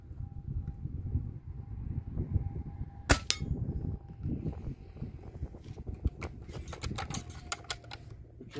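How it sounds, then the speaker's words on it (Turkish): A Hatsan Torpedo 155 Vortex air rifle fires once at a steel target, giving a sharp crack with a bright metallic ring, followed by scattered lighter clicks and ticks of handling. "Üçüncü atış."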